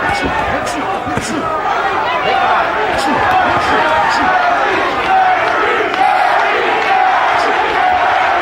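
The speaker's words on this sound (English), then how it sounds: "Crowd starting to chant, Curry, Curry, Curry." Boxing arena crowd at a Terry Norris versus Donald Curry fight, a large roaring audience with rhythmic chanting of the fighter's name, loud and continuous throughout.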